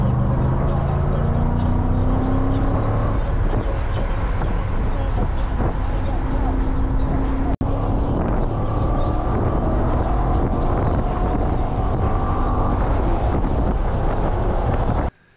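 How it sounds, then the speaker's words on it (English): Interior of a BMW E39 M5 wagon on a spirited drive, with steady loud wind and road roar and a low engine drone running continuously throughout, a brief dropout midway. "Well, that was a fun spirited drive."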